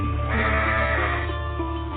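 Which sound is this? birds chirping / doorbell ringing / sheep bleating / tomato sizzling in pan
sheep bleating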